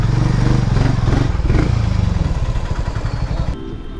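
A Harley-Davidson X440 motorcycle engine runs steadily up close, its low throbbing pulse continuous before easing off near the end.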